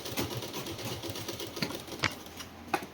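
A sewing machine stitches a frock for a six-month-old baby, with a close, fast, rhythmic mechanical whirring of needle strokes and a few sharper clicks along the way.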